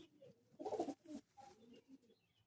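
Flying pigeons in a loft give a few low, throaty coos in short uneven bursts, close but quiet, with softer murmuring between them.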